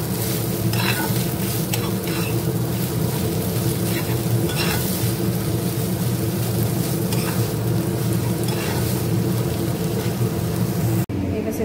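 Red amaranth greens stir-fry in oil with poppy seed and green chilli, giving a loud, steady sizzle broken by repeated scraping stirs, close up from start to finish.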